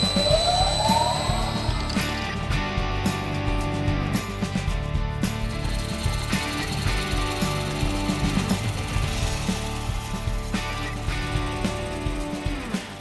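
A 3/4 inch bowl gouge hollows out a wooden bowl on a lathe, giving a steady, loud grinding and scraping that runs continuously throughout, with no talking.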